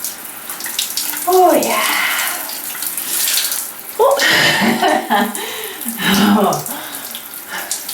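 Cold shower water pours steadily from a showerhead with no steam, a continuous splashing hiss that surges and drops as the stream is moved, while a person gasps and exclaims briefly under it.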